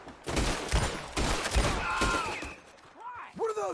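A volley of gunshots in Red Dead Redemption 2 cracks out in loud, close bursts over about two seconds, then fades as voices talk.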